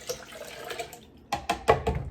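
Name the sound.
pouring liquid ingredient for chocolate popsicles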